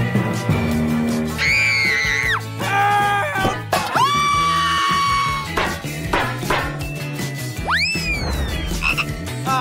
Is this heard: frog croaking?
yes